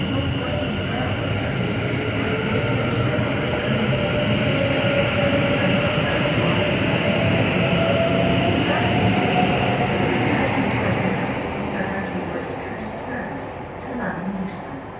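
A pair of London Northwestern Railway Class 730 electric trains runs through platform 4 at Milton Keynes Central on the West Coast Main Line, a steady loud rumble and rolling rail noise that eases off toward the end, with voices in the background.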